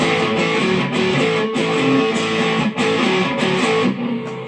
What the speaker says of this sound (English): Tube screamer on, and add that treble boost.